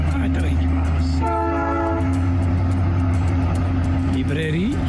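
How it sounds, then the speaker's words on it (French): A train passes through the prairie town of Bruno, its rumble continuous and close while the horn blows one long blast, with a voice heard briefly. "Et un train qui passe."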